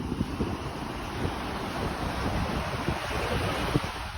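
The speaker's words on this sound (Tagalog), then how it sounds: "napakalakas po yung agos ng tubig" Strong sea current and surf near a resort during net fishing, a steady broadband rush of moving water with wind buffeting the microphone, continuous and fairly close, with no talking.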